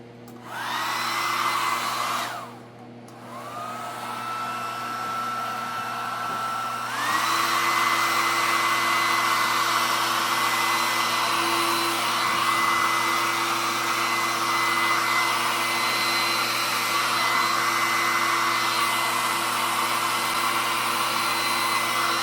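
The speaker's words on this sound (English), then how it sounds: "I'm going to try using a blow dryer" A hair dryer blows over acrylic pour paint with a loud, steady whoosh, briefly dipping early on, then rising to a higher setting and running continuously to the end.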